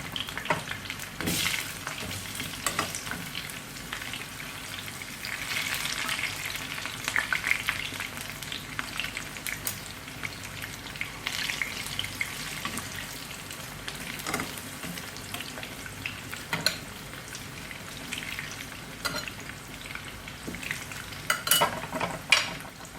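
Carrots stir-fry in a pan with a steady, fairly quiet sizzle, broken by occasional scrapes and clinks from stirring.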